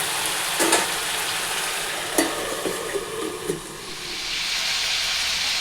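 A pan of mixed-vegetable chorchori cooks on the stove with a constant steamy hiss and frying crackle, punctuated by a few brief utensil knocks early on; no voices are heard.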